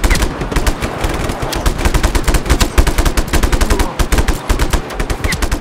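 Rapid automatic gunfire in Just Cause 3 rattles loudly and continuously in dense bursts throughout, with no speech.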